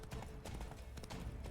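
Roach, a horse in The Witcher 3, gallops in a quick, steady run of close hoofbeats that stays loud and even from start to finish.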